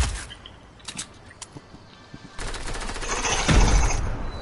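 Gunfire in a PS4 video game: scattered single shots early, then a denser, louder stretch of rapid fire and crackle over a steady background, with no talking.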